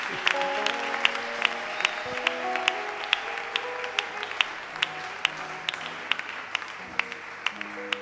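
A church congregation applauding and cheering in praise of the Lord, steady clapping at moderate distance over a sustained organ-like musical backing, with scattered sharper claps standing out.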